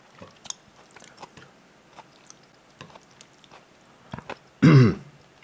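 Chewing on thick, chewy Chapagetti instant noodles, with soft, close mouth clicks and smacks scattered irregularly, ending in a brief louder throaty burst.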